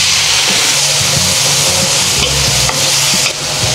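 Ginger, onion, garlic and tomato sauté in a hot pan for sinigang na bangus, giving a steady, close sizzle with soft stirring scrapes throughout.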